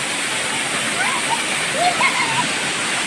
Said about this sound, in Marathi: काळा दगडातून हा धबधबा वाहतो आहे